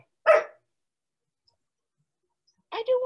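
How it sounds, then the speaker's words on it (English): A dog barks indoors, one sharp bark followed after a pause by a second short, pitched bark-yip, close and loud against a quiet room. "I do want you to go outside because you bark at the other dogs."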